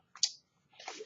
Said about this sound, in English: bear with me while I shuffle the cards